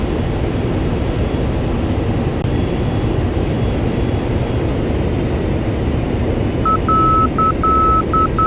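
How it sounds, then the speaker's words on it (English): Inner marker beacon tone in the Digital Combat Simulator flight game: a steady, high-pitched series of short beeps starting near the end, over a constant loud roar of aircraft engine noise. "You have now passed the inner marker beacon"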